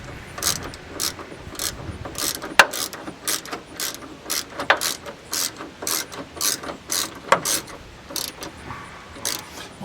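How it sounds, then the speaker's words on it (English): A ratchet wrench clicks in quick bursts while tightening bolts on a 1987 Camaro, the close, sharp pawl ticks repeating steadily with brief pauses between strokes. "Tighten up them 2 bolts right there"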